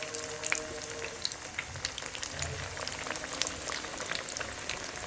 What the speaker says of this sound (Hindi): अब इसमें हम एक एक करके ये शामी फ्राई करेंगे।